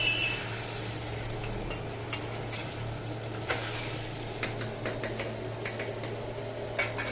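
Unpeeled diced potatoes sizzle steadily in a pan with spices, a constant low frying hiss broken by scattered clicks and scrapes of a stirring utensil, close and moderately quiet with no voices.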